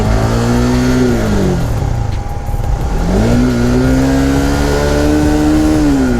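A Honda CBR 150R motorcycle engine revs hard in second gear, loud and close, its pitch climbing, dipping briefly at a shift, then rising again to a sustained high whine.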